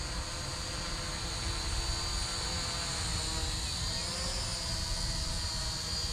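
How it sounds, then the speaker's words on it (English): A small camera drone hovers in the air, giving a steady, continuous whirring buzz with a high-pitched propeller whine that holds even throughout, fairly close and uninterrupted. "There's the drone."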